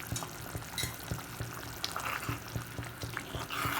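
A pot of turmeric curry simmers steadily, giving a continuous close bubbling and sizzling texture with small pops, and no voice over it.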